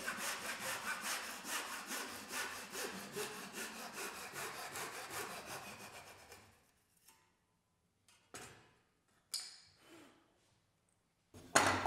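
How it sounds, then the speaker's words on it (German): Hand saw cutting a wooden miter joint in a miter box, a steady rapid back-and-forth rasping for about six seconds, then stops, leaving a few isolated knocks and scrapes of wood. "Natürlich gibt es noch andere Möglichkeiten, die Gehrung zu sägen, wie hier mit einer Gehrungslade."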